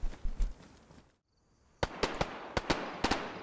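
Pistol gunshots ring out in the video game DayZ on the Livonia map: a few sharp cracks, a brief silence, then a quick irregular string of about eight loud shots.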